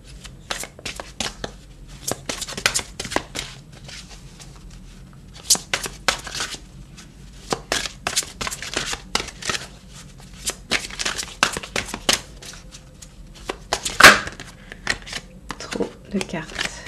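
Tarot cards are shuffled by hand in repeated crisp riffles and slaps, close and fairly quiet, with irregular bursts and brief pauses across the stretch.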